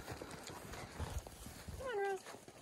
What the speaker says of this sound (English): Look, the goats are coming up.